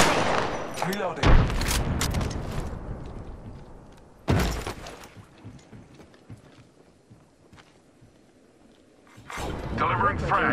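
Sharp bursts of gunfire crack out in a few separate volleys, loud and close, with quieter rumbling and clattering between them, in the video game Apex Legends.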